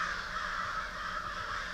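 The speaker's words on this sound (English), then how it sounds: "one of these crows just went crazy" Crows caw agitatedly in Arkansas timber, harsh repeated calls from fairly close over a quiet background, with no voices.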